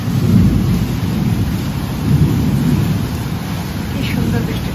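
Heavy rain pours steadily on a balcony with rumbling thunder, a loud continuous wash throughout, with faint voices in the background.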